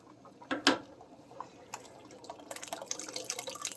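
Liquid from a can poured into a spaghetti pot, with a few splashy drips up front and then a steadier, close trickling fill toward the end.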